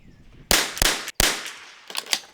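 Bergara B14R rimfire rifle fired during practice for a PRS match, several sharp cracks in quick succession, loud and close, with short ringing tails between them.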